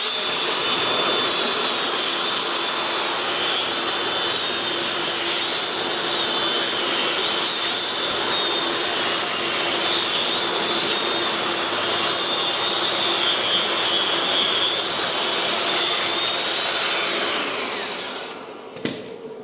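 A leaf blower roars steadily and loudly at close range during demolition and remodelling of a 150-year-old cottage in Australia, a continuous broadband rush that cuts out near the end.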